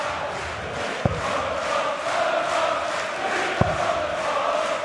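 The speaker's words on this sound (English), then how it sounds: "Crowd singing Benito's name" A darts arena crowd sings a player's name in a loud, sustained chant, with a couple of sharp thuds cutting through the continuous roar of voices.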